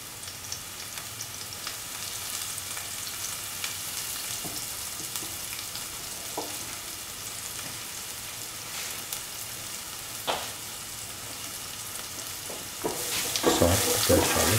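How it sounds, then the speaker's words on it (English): Fennel and cumin seeds crackling and popping in hot oil for a mixed vegetable stew, a soft steady sizzle with sparse faint pops, growing louder and busier in the final moments. "let the fennel seeds and cumin seeds pop."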